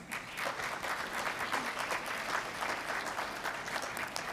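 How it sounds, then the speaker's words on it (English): Steady applause rises from the audience at a G20 development working group side event on financing frameworks, a dense, even patter of many hands held at moderate loudness. "please give a big applause to all of us"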